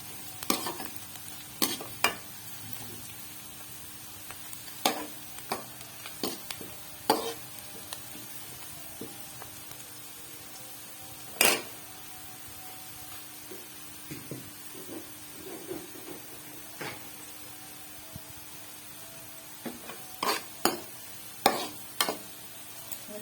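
Onions frying in a pan for a Lahori fish curry give a soft continuous sizzle, broken by scattered sharp scrapes and clinks of stirring at irregular intervals.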